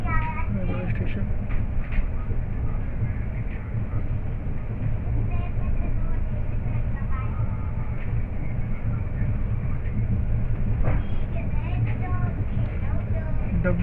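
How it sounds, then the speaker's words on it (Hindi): The Siddhabali Jan Shatabdi Express rolls into Hapur Junction railway station with a loud, continuous rumble and rhythmic wheel clatter, close to the platform, with voices mixed in. "Train is arriving at Hapur Junction railway station."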